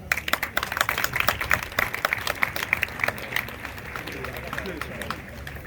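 Scattered clapping from an audience at a Sri Maharudra Yaaga ceremony, irregular and fairly close, fading into a softer rumble of crowd noise toward the end.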